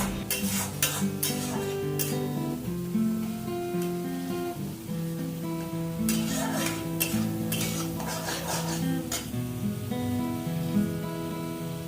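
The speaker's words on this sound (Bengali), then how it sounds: "মশলাটা খুব ভালোভাবে কষানো হয়ে গেছে।" Spice masala for a pabda fish curry is stir-fried in a pan, with a steady sizzle and repeated clinks and scrapes of a spoon against metal under continuous background music.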